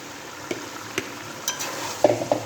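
Potatoes go into a frying pan and are stirred, a few sharp scraping taps over a low sizzle that grows slightly busier toward the end.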